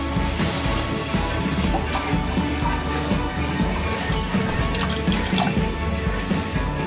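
A quarter cup of water pours into a slow cooker for bourbon chicken, a steady close splashing trickle that runs continuously for several seconds with no talk.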